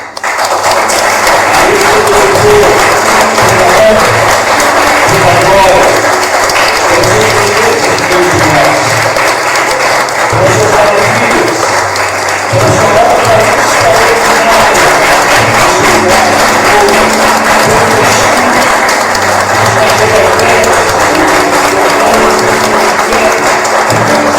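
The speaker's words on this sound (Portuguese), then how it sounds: "dar uma grande salva de palmas para o nosso Deus" Loud, sustained applause from a large church congregation during a sermon, continuous clapping with some thumps and murmured voices underneath, lasting a long stretch.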